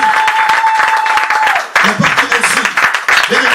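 A church congregation applauds and cheers in praise of the Lord, steady loud clapping running throughout while voices call out and a preacher speaks over the noise.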